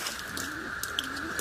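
Pigeons coo softly in low, rolling calls under a steady background hum, with a few faint clicks and rustles nearby.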